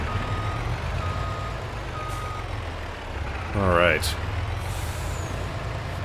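A truck backing up with steady repeating reversing beeps and the hiss of air brakes over a low engine rumble, at a used car dealership lot; someone speaks briefly.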